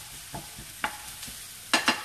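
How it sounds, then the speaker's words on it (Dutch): A mixture frying in a pan with a steady faint sizzle, broken by a few scraping stirs, two of them sharper and louder near the end; no talking. "dit gaan we zo eventjes een beetje gaan staan pruttelen. Een beetje bakken nog."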